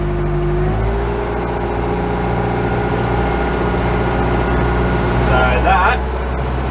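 The engine of a 34ft Hartley timber boat runs steadily underway, a loud continuous drone with rising engine tones as the throttle changes, and someone speaks briefly over it.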